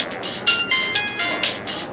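A phone ringtone in a Hindi audio story plays as a bright, repeating electronic chime in short pulsed bursts, fairly loud and steady over about two seconds, with no talking.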